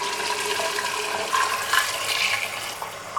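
Hot water pours into a pot of fried mutton for Peshawari namkeen ghosht, a steady close splashing wash of liquid running without a break.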